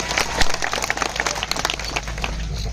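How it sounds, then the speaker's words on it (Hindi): A crowd at a political rally in Dungarpur applauds, a dense patter of clapping with a few sharp claps standing out, steady and fairly loud throughout. "इसलिए एक बार जोरदार तालियां आप सबके लिए"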